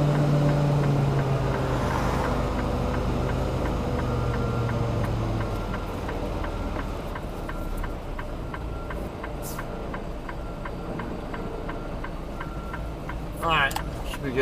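A car drives by near the I-15 Cajon Pass. A low engine hum is strong at first, then fades over several seconds into a quieter steady rumble with faint ticking.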